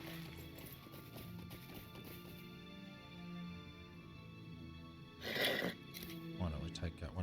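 Horse hooves clip-clop at an even pace amid busy Lord of the Rings Online game sounds, with a sudden louder burst of noise near the end.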